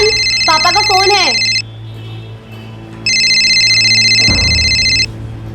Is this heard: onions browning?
no